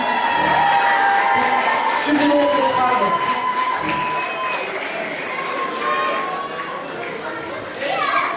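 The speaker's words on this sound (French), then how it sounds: "vous pouvez applaudir très fort Luc et Lucette?" A street-festival crowd cheers and claps for the performers Luc and Lucette, a loud sustained roar with children's voices and shouts mixed in, steady for several seconds and swelling again near the end, with a voice speaking over it.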